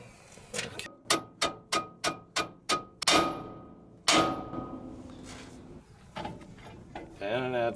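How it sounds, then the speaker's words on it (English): A hammer bangs on the front steering knuckle of a Ford Econoline van during a suspension lift, six quick metallic strikes at a steady rhythm followed by two heavier ringing blows and some clattering, close and sharp. "we're about to bang on the steering knuckle with a hammer"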